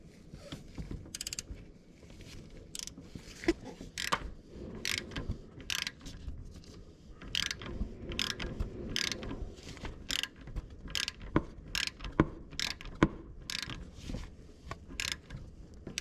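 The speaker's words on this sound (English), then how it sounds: "now I'm going to grab my torque wrench" A torque wrench tightens a steering shaft bolt on a 2009-2014 Ford F-150, giving a series of sharp ratcheting clicks in quick bursts, close and fairly loud against a quiet garage.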